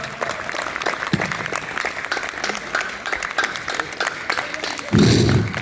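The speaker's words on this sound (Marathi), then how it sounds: "सर्वांनी स्वतःसाठी एकदा जोरात टाळ्या." Yoga participants at an outdoor International Yoga Day session clap loudly for themselves in a continuous roar of applause, ending with a heavier thumping burst.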